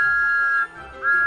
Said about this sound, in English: Thomas blew his wonderful whistle loud and long.